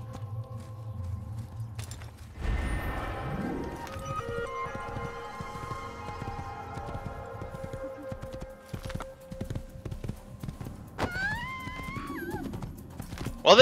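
Horse hooves clip-clopping at a walk in the video game Assassin's Creed, steady and moderate in level, with a whinny partway through and a brief voice near the start.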